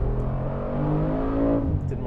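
A 2025 Mercedes-AMG G63 Performance V8 rumbles loud and close while held on the brake for a launch, a deep, steady engine drone that swells slightly and then eases back, with no tire squeal.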